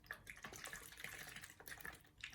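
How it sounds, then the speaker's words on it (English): Normal saline pouring from a bottle into a tray during a tracheostomy suction and dressing change, a steady close trickle of liquid with small splashy bursts running throughout. "pour some normal saline in the tray"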